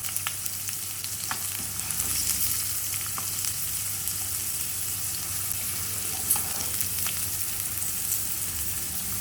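Beans and green peas fry in oil in a pan for a mix vegetable curry, a steady close hiss and sizzle throughout with faint occasional crackles and no talking.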